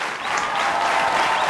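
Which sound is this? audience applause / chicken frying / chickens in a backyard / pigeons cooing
audience applause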